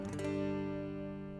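A guitar note rings out from a dissonant sharp fourth and resolves, plucked near and clear with a short attack, then sustaining steadily and fading slowly with no voices.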